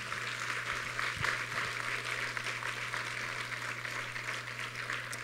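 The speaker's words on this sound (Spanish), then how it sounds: "Denle un aplauso a Jesucristo." A congregation claps in a church during a Spanish-language service. The applause is a continuous, even wash of clapping over a low electrical hum, with no speech on top.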